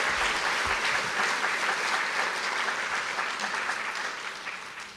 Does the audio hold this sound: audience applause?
yes